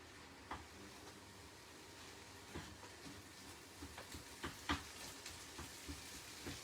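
Lean minced beef browns in a pan with a steady, soft sizzle, broken by scattered scrapes and taps of a utensil stirring the mince.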